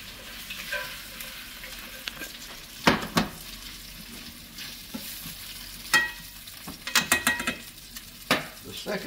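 Scallops fry in a pan with a low, continuous sizzle, broken by several sharp scrapes and clinks of a utensil against the pan.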